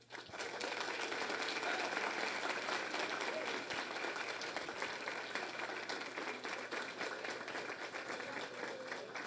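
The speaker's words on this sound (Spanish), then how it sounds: "Y yo considero que eso se merece un aplauso." A steady round of audience applause fills an academic talk on game development and esports, sustained clapping at fairly even volume from start to finish, somewhat distant and soft.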